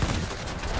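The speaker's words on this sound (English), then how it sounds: "I understand I'm under AAA fire" Anti-aircraft fire in World of Warplanes bursts steadily around an aircraft, a dense, continuous rumble of gunfire lasting under a second with no voices.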